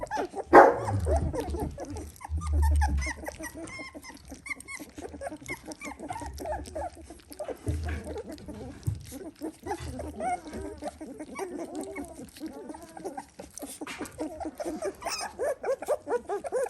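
Three-week-old Dalmatian puppies in a pen whimper, yip and give small barks, scattered bursts close by over soft rustling, with a person's voice now and then in the background.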